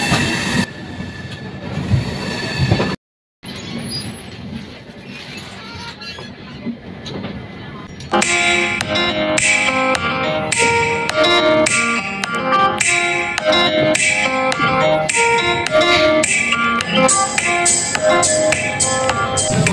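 A passenger train on the Howrah to Mumbai line pulls out of Bilaspur Junction, first a low rumble with a brief cutout, then loud rhythmic wheel clatter over rail joints as it picks up speed.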